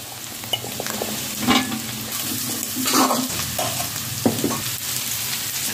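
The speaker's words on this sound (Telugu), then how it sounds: "దీంట్లోకి చికెన్ ముక్కలు మనం పకోడీలా చేసుకొని వేసుకోవాలి." Battered chicken pieces frying in a pan for homemade chicken fried rice, giving a close, steady sizzle with a few louder stirring scrapes and bursts of crackle.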